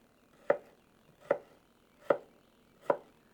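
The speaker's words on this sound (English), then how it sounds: "So I'm going to get the rest of these cut up because I don't want to bore you me just standing here cutting potatoes." A knife cuts potatoes on a board in four crisp, evenly spaced chops about a second apart, each a sharp close thud with a short tail and near silence between.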